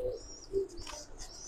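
Pigeons coo on a pigeon farm, with fancy breeds such as Giribaz and Raj Golla. The coos are soft and short, with a few faint chirps in a quiet setting.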